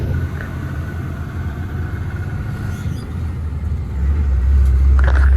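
A car travelling along a road near Hazira, a steady low engine rumble and road noise from inside the vehicle that swells louder toward the end.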